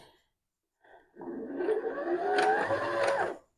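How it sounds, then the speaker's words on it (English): A beginner-friendly home sewing machine starts up once its foot pedal is pressed, a sudden steady mechanical whir after a short tap that runs for a few seconds at close range and then stops. "some, like this one, you have to push the foot"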